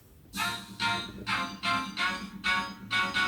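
Build-up section of an electronic track: a faint, steady series of airy noise swells pulsing about twice per second over a soft low hum, with no voices.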